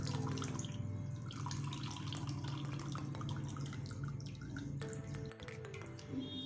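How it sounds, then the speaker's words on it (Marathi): Homemade paneer is rinsed in cold water, giving soft dripping and sloshing sounds that sit beneath steady background music. "आपल्याला हे पनीर असे थंड पाण्याने धुवून घ्यायचं आहे"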